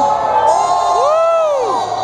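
A crowd at a motorcycle stunt show cheers and whoops loudly, with a rising shout or whistle-like yell swelling over the sustained noise for a couple of seconds.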